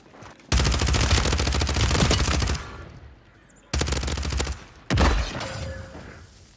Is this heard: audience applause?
no